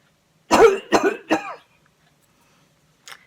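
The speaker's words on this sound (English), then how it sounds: "I am coughing into my elbow" Three close, loud coughs from one person coughing into an elbow, followed by a pause and a faint short cough or throat sound near the end.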